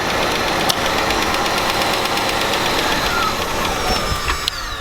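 A Buick Roadmaster engine runs loud and close with a steady, rough drone and a knocking undertone. It continues throughout without any clear stall, and no voices are heard.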